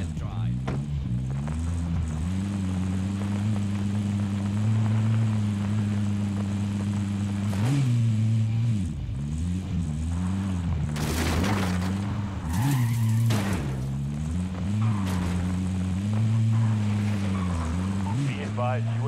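A vehicle is driven in a military video game, its engine a steady mid-pitched drone that rises and dips as it revs, with brief skidding bursts and game radio chatter over the top.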